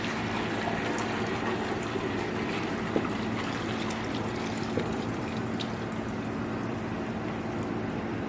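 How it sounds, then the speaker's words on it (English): Chicken broth for Chicken a la King is poured through a small strainer into a 6-quart pot, a steady continuous rush of liquid with no talking. "I have a little strainer right here over my 6-quart pot, and I'm just going to pour everything through here"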